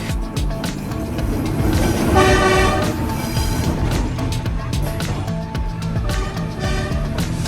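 A train in Hanoi, Vietnam rumbles past with a sustained horn blast around the middle, steady loud rail noise and clattering throughout.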